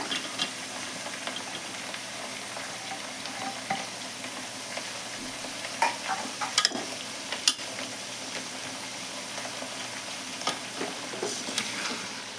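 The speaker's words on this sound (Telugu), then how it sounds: "బాగా కలిపేసి మగ్గించుకుందాము." Tomato, onion and ginger paste sizzles steadily in a pan while being stirred, giving a soft continuous frying hiss with occasional light scrapes and clinks, close by and without speech.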